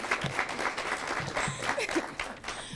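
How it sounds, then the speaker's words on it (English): A small crowd applauds with brisk, scattered clapping that carries on steadily, with a few voices mixed in beneath. "give him a round of applause"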